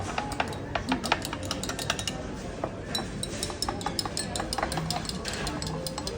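A spoon stirs a marine collagen drink in a glass, with a quick run of light, close metallic clinks and taps against the sides, fairly faint.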